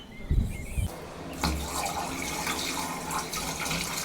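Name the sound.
water draining through a hose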